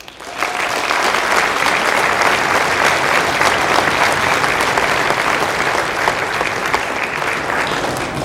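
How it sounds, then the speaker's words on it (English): Audience at an elementary school band spring concert giving sustained applause, a loud, steady wash of many hands clapping that begins abruptly and carries on for several seconds. "a round of applause for all of his help"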